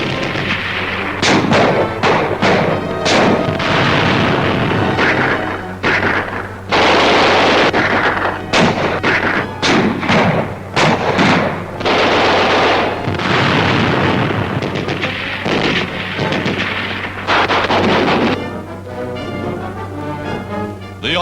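Dense WWII jungle combat at Buna, New Guinea: rapid rifle and machine-gun fire mixed with heavy blasts and thudding explosions, loud and continuous over a steady low rumble, with no voices.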